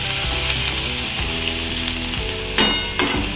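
Frying on a stovetop while making gondhoraj momos, a loud, continuous sizzle with low rumbling underneath and two sharp clinks of a utensil against the pan toward the end.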